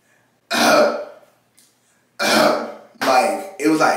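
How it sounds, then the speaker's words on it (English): Several harsh, raspy throat bursts like dry coughs or throat clearing, close up, with short pauses between them. "It started off as like dry coughs"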